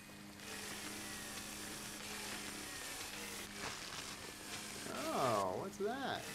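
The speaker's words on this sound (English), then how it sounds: "this chainsaw is hardcore" The chainsaw in Luigi's Mansion 3 drones steadily under game effects and music, with wavering pitch sweeps near the end.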